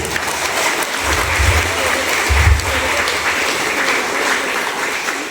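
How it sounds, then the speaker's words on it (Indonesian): Large crowd at a university opening ceremony clapping loudly and continuously, a thick sustained roar of hands with low thumps from a sound system underneath. "Tepuk tangan dulu."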